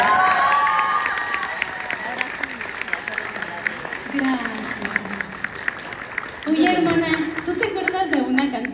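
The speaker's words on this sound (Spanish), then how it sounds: "Oigan, un aplauso a mi hermana Carmen" A concert crowd applauds and cheers for the singer's sister Carmen, a busy roar of clapping and shouts that swells again toward the end, with voices talking and calling out over it.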